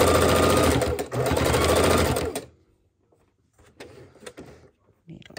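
A sewing machine runs in a steady whirring burst for about two seconds while stitching fabric for a reversible coffee cozy, then stops; faint handling noises follow in the quiet.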